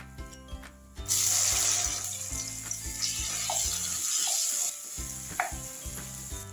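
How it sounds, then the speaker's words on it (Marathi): Mustard seeds, half a spoon of cumin and a ground paste hit well-heated oil, bursting into a loud, close sizzle after a quiet start, then fading to scattered pops and crackles over a low steady hum. "तेल चांगलं तापलेलं आहे। त्याच्यात आपण मोहरी टाकू, जिरं अर्धा चमचा, वाटण घालू आपण त्यात।"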